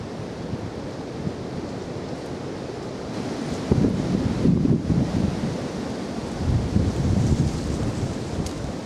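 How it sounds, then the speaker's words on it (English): Wind gusts outdoors at a small camp stove setup, rushing and buffeting close to the microphone, swelling louder in the middle and settling back down. "Now it is quite windy today"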